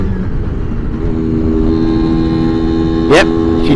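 Lambretta Li150 scooter pulling hard in fifth gear, a steady two-stroke drone heard up close from the rider, with wind noise and a brief sharp rising whine near the end.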